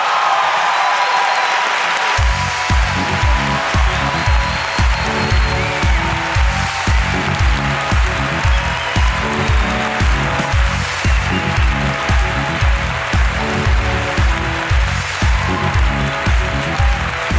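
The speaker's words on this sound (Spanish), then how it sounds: "Un aplauso para Goyo Jiménez." A studio audience bursts into applause for comedian Goyo Jiménez after a quiet opening, with rhythmic clapping and a pulsing beat under it that carry on steadily to the end.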